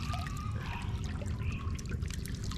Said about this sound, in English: if you shake it down in the water, it releases a lot of the bubbles that make the arrow float